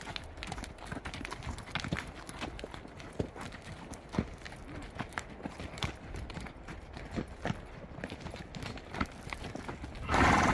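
Horses walking with a steady, irregular clip-clop of hooves on hard ground, several animals close by, with a snort or whinny and low chatter around.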